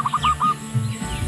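A walik kembang pigeon calling nearby, a short series of soft repeated coos and clucks followed by lower throaty cooing, heard alone without talk.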